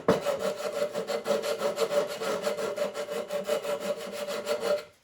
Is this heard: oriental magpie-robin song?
no